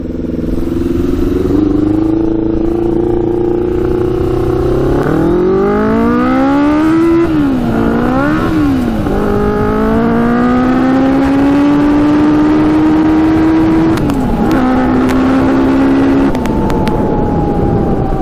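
A modified 100 hp Yamaha Banshee quad howls through its gears while riding, loud and close, revving up in rising sweeps, dipping at shifts and climbing again before easing off.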